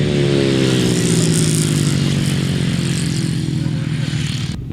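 500cc solo grasstrack motorcycles race at the Kent Kracker, their engines roaring loud and continuous with layered revving from several bikes, cutting off abruptly at the end.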